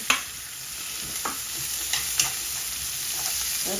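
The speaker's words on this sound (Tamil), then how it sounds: "உள்ளி, இஞ்சி எல்லாம் போடுவோம்." Garlic and ginger sautéing in a pan give off a steady, close hiss broken by several sharp spatula scrapes and taps, with no talking.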